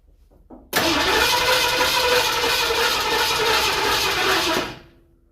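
An abandoned Eleanor Mustang engine catches and roars loudly into a steady running note for about four seconds, then cuts off, preceded by faint clicks of cranking.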